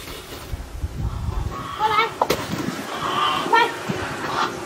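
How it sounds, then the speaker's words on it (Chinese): Ducks are fed at a rural home, with scattered quacks and squawks rising in short bursts over a low background. Someone talks nearby throughout. "给鸭子吃饭。"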